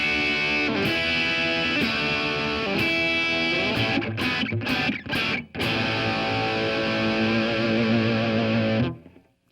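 Electric guitar played through a distortion pedal, sustained gritty chords struck several times, then quick choppy stabs with brief gaps before a final held chord that cuts off abruptly, loud and alone.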